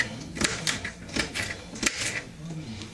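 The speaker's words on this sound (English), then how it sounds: "I like to cut mine up in small chunks." A knife chops stuffed-pepper casserole ingredients into small chunks on a cutting board, a quick series of sharp taps and knocks close by, with speech present in the clip.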